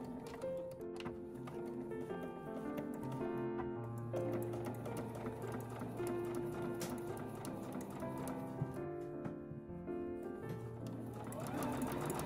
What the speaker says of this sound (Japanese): こちらとこちらを同時にミシンで進めていきます。